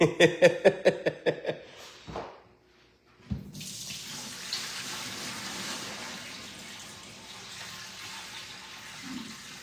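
A kitchen faucet runs while raw turkey wings are rinsed in the sink, opening with a quick series of rhythmic splashing pulses, a short pause, then a steady stream of running water close by, with no talking.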